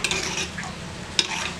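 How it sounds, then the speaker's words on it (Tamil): Mustard seeds and urad dal fry in hot ghee for a tempering, with a light sizzle under brief scraping and clinking of a spoon against the pan, heard close up. "இதை தாளித்து கொட்டுறதுக்கு கொஞ்சம் கடுகும் உளுந்தம்பருப்பும் போட்டுக்கலாங்க"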